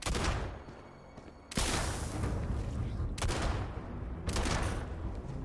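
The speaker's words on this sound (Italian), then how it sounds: "Facciamoli secchi con la nostra pistolina." Pistol gunfire in the sci-fi video game Starfield: several sharp shots with a loud burst at the start and more reports around two seconds apart, crackling and punchy, with faint voice in the background.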